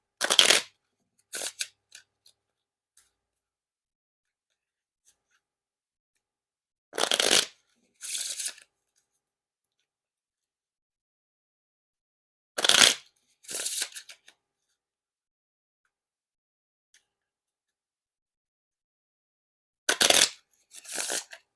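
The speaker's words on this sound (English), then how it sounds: "And now for the riffle shuffle or bridge shuffle." Playing cards riffle-shuffled in four separate bursts, each a quick crisp flutter followed by a short bridge-down rustle, with silence between.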